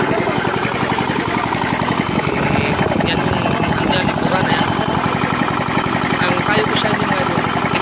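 A new low-speed 12HP boat engine runs steadily close by, a loud rapid chugging thrum with mechanical clatter, continuous throughout, with voices faintly under the noise.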